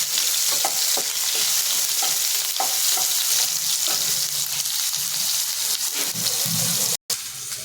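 Mango pieces frying in a pan for a Bengali katla fish and mango curry, with a steady loud sizzle and scattered stirring clicks throughout, a brief break near the end, no voices.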